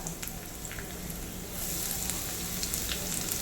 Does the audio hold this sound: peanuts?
yes